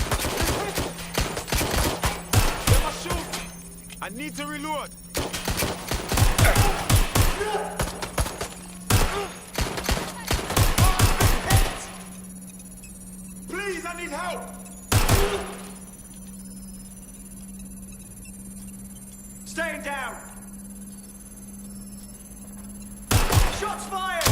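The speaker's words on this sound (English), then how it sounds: "Shots fired!" Video game gunfire from Watch Dogs: Legion: dense bursts of automatic shots and heavy thuds crowd the first half, then scattered single shots follow. Voices speak between the volleys.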